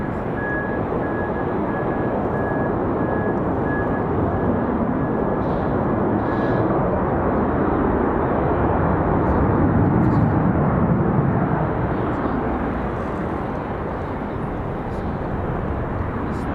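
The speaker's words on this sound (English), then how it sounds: "Looks like Aero Mexico is going to go for it again." Jet engines of an Aeromexico airliner roar at the departure runway of Raleigh-Durham airport, a loud sustained rumble that swells mid-clip and then eases slightly.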